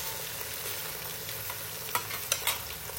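Vegetables softening in hot oil, a steady quiet fry with a few brief louder scrapes of stirring near the end.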